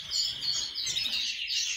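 A black-headed male cage bird chirps in quick, bright, repeated tweets while feeding at a fat ball, the calls close and clear over a soft background hiss.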